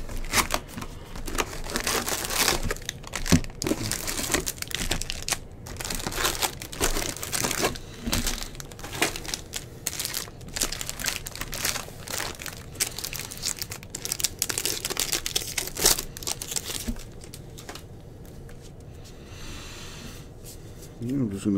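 Paper wrappers on jumbo packs of 2022 Bowman baseball cards being torn and crinkled, a busy, continuous close rustle and crackle lasting throughout, with occasional voices mixed in.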